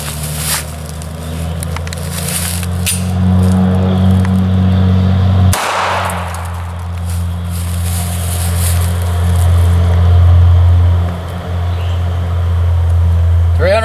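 A 9mm pistol round, 115 grains at 1,100 feet per second, strikes a Diet Coke can with one sharp crack midway through, over a steady low hum.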